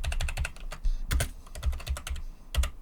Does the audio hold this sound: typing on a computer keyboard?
yes